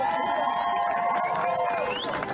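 A crowd cheers and applauds soldiers, steady loud crowd noise with overlapping voices and shouts filling the whole stretch, a raised voice riding on top.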